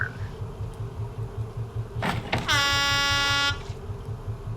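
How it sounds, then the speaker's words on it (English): Air horn blasting in the survival video game Raft, a loud harmonic honk lasting about a second after a short burst, over a low rhythmic background hum. "And we can have the air horn."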